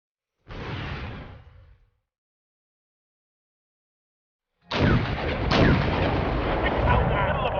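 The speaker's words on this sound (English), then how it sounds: "So just engaging them now with those chieftains there." Chieftain tanks firing on Soviet tanks in the video game Wargame: European Escalation, heard as a loud cannon blast with a rumbling tail, then a longer stretch of heavy gunfire and booming after a gap of silence.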